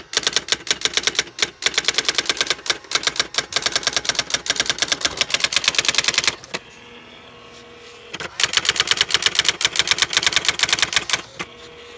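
A Brother typewriter types in rapid, loud, close keystroke bursts, pausing briefly for a couple of seconds before the fast clattering resumes.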